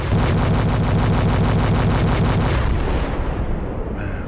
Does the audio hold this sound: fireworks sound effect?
yes